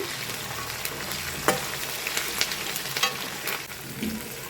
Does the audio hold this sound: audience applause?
no